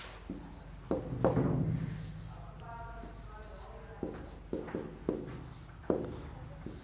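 A pen writes a formal letter by hand on paper, giving soft scratching strokes and taps at an irregular pace, close up, with a voice speaking quietly in between.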